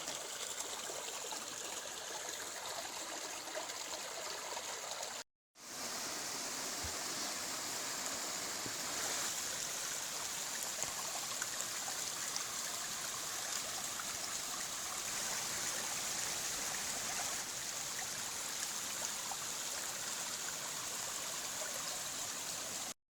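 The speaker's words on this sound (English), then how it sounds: "Pretty little creek." A small creek at Upper Laurel Fork on an Appalachian Trail section hike runs with a steady, close rushing and trickling wash. The flow continues without pause, apart from a brief cut early on, and no voices are heard.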